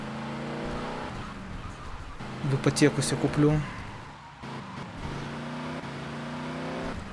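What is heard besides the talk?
Greenwood car engine in video game GTA Vice City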